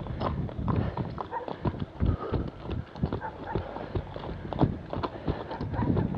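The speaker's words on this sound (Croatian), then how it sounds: "Konj kad ide, mora se stat." Horse hooves clip-clopping on a road, a steady run of sharp close hoof strikes that fills the whole stretch, with faint background noise beneath.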